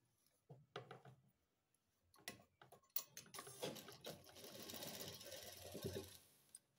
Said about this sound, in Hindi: जहाँ हमने सिलाई लगाई वहीं पे ही सिलाई लगाएंगे।